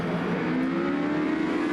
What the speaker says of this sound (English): Green flag, we're racing again here at Oulton Park